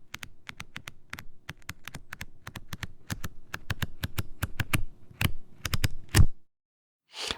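A book being handled up close: a quick run of sharp taps, flicks and page rustles in irregular bursts, growing busier and louder before a brief silence and a final rustle.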